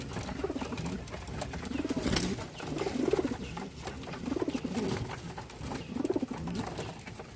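Jalali pigeons coo in soft, repeated throaty bursts roughly every second, nearby, over a faint background with occasional rustling.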